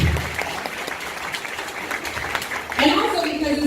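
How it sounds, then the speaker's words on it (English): An audience at a fashion show claps in sustained applause, a dense, steady wash of many hands that swells louder near the end while a voice talks over it. "So give them another round of applause."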